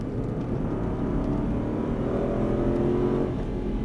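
An Aston Martin engine roars steadily under load on the Dreux race circuit, accelerating with a continuous rising drone and no voices over it.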